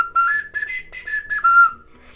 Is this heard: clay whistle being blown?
yes